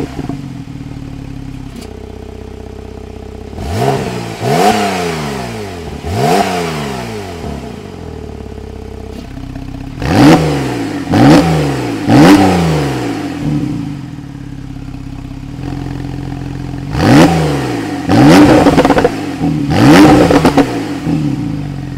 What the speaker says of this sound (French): échappement ouvert avec le mode sport qui vous permet d'avoir des petits pops